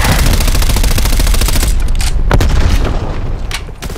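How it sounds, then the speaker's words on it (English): Incoming artillery strike in Call of Duty: Black Ops Cold War, a dense loud barrage of rapid booming blasts that thins into a few scattered heavy explosions. "Artillery targeting detected. Net call. Incoming artillery."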